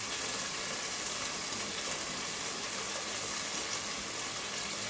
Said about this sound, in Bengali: এই দেখেন আমার মশলাটা একটা ভাজা ভাজা হয়েছে।